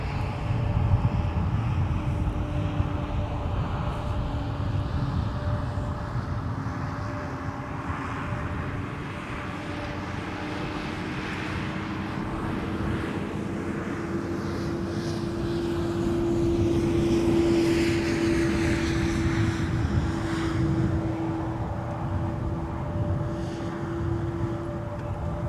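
An airplane at MSP Airport during the evening rush drones continuously with a steady engine tone, the roar swelling slightly as it passes, loud and sustained with no talk.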